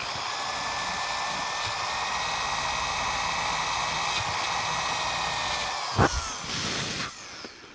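A steady abrasive whir from scrubbing rust off the magneto stator contacts of a John Deere L100 lawn tractor with a Briggs Intek 17 hp OHV engine, running continuously before a brief knock and a quieter tail.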